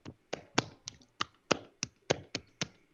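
A person claps their hands about ten times in an even rhythm. The claps are sharp, fairly quiet and close, with no talking around them.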